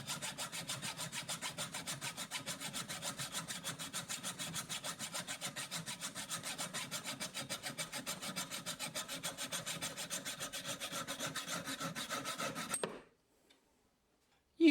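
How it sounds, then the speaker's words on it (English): Hacksaw cutting through mountain bike handlebars with light pressure, a fast, steady back-and-forth rasp of sawing strokes, close and even, running for about thirteen seconds before stopping abruptly into near silence. "with the other finish cutting the bars by applying low pressure on a hacksaw"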